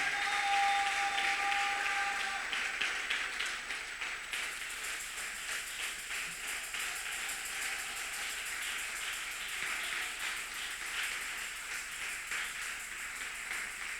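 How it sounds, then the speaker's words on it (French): Church congregation applauding together, a sustained wash of clapping that stays dense and even for the whole stretch with no talking over it. "lève-toi et acclame le Seigneur au nom de Jésus"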